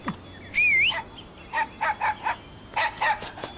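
A dog barks in quick, sharp bursts, close by, first a high yelping whine and then a string of short barks in two clusters.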